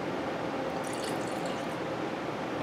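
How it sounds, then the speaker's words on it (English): Water is poured into a container for a double boiler, a close, steady splashing trickle that runs without a break for a few seconds. "So let me put a little water in here."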